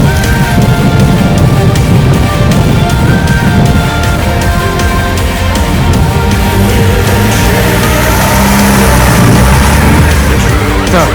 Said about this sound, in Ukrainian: Так, ця автівочка готова. Виїжджає.